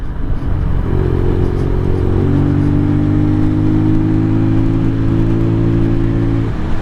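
A 2023 Venom SS3 KP mini 150 motorcycle engine drones steadily in fifth gear at around 5,000 RPM, a close, constant hum with a slight pitch rise early on, alone with no talk.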